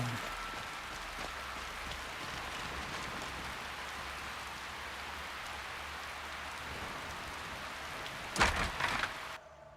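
Steady rain falls in Skyrim, a constant hiss of drops on surfaces that stays even throughout, ending in a brief louder rustle and thump near the close.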